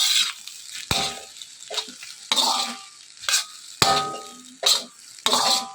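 Egg fried rice being stirred and tossed in a hot pan, with repeated bursts of spatula scraping over a steady sizzle, several sharp strokes spaced through the mix at close range.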